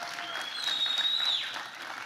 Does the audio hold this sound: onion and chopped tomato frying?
no